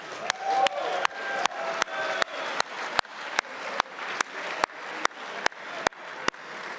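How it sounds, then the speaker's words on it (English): An audience at West Point's Class of 2023 infantry post night claps in a steady, rhythmic beat of about two claps per second, fairly quiet with crowd murmur beneath. "Let's get a round of applause for you."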